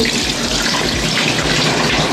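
Tap water runs steadily into a sink while freshly bought fish is washed in a home kitchen, a continuous close splashing gush with no talk.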